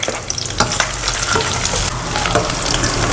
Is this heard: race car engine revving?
no